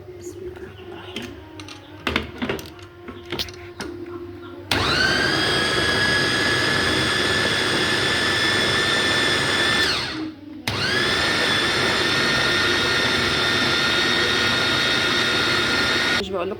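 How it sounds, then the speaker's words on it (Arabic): An electric meat mincer grinds minced meat with onion for kofta, starting with a loud steady whine after a few soft clicks, running continuously, briefly cutting out near ten seconds, then whirring on again. "ادي اللحمه المفرومه، هنفرم بقى"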